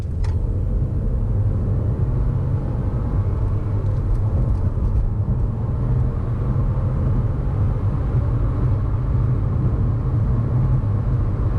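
A 2018 BMW 118i with a 136 hp inline three-cylinder accelerates from 30 to 70 mph on a motorway, heard from inside as a steady, loud low engine drone and road rumble with no talking.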